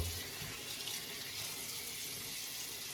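Water runs steadily from a tap into a sink before a face is wetted for a shave with a Gillette Fat razor, a continuous soft splashing hiss at moderate level, with no voices.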